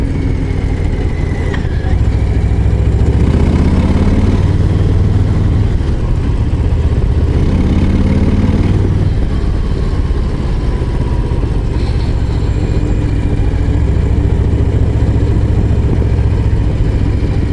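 A Harley-Davidson Low Rider ST motorcycle engine runs on a mountain descent, a loud, deep rumbling throb that swells and settles through throttle changes, with wind noise and brief talk mixed under it.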